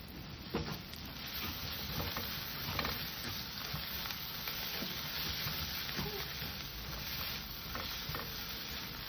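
A spice masala with salt, coriander and cumin powder sautéing in a pan for Bengali doi katla, heard as a faint, steady sizzle with occasional soft stirring taps, quiet and close, no voices.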